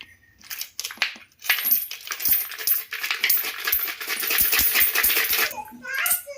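Metal coins pour and clatter out of a heavy coin bank in a long rattling cascade, close and loud, with children's voices talking alongside.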